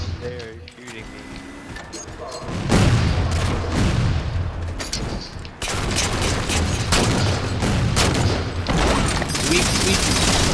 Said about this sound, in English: Someone there is shooting me.